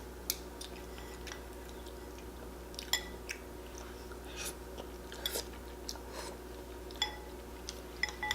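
Someone eats spicy gluten-free noodles up close, with soft wet smacking and chewing bursts scattered irregularly over a steady low background hum, each mouth sound brief and fairly faint.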